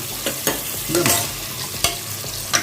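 Sliced onions for a Tamil chicken and red radish gravy get stirred in a pan, with sharp spoon scrapes and clatters arriving every second or so over a steady low sizzle.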